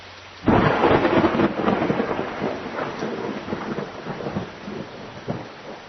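A thunderstorm with heavy rain, enough to flood roads, opens on a sudden loud thunder crash, then a steady heavy downpour roars on with rolling rumbles.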